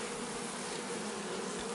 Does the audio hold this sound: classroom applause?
no